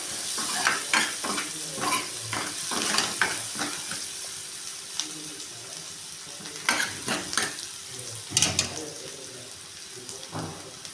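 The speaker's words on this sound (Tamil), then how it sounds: "கட் பண்ணி வச்சுருக்கிற வெங்காயம்லாம் போட்டாச்சு. போட்டு நல்லா கிண்டிக்கலாம்." Chopped onions frying in a pan while being stirred, with steady sizzle and repeated scraping clatters of the spoon, a cluster of louder strokes near the end, recorded close up while cooking a paneer gravy masala.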